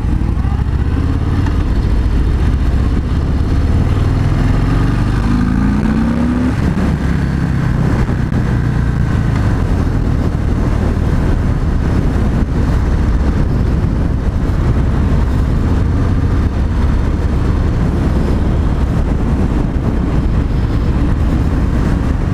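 Steady, loud engine roar from a moving Harley-Davidson Breakout 114 motorcycle, droning continuously with slight pitch shifts as it rides, no voices heard.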